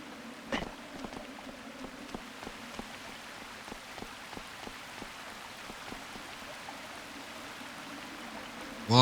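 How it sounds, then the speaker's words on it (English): A waterfall in the video game Shadow of the Colossus gives a steady, hissing rush of falling water, like rain spattering, with faint ticking drops throughout and no talk. "Waterfall."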